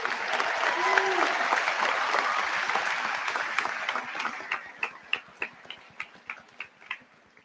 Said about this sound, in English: how about a round of applause for all of them?